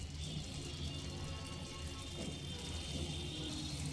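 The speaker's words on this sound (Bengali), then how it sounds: "এই পর্যায়ে এসে আরও অল্প একটু গরম জল দিয়ে দেব।" Hot water is poured into simmering Bengali aloo posto, a potato and poppy seed curry, making a faint, steady watery rush over a low background hum, with no talking.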